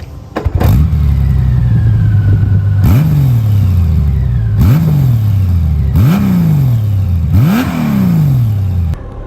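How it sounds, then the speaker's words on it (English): A 2023 Honda Goldwing motorcycle engine revs hard about five times in a row, each loud, close blip rising and falling with a throaty exhaust growl and no talking. "it certainly has more growl to the exhaust note"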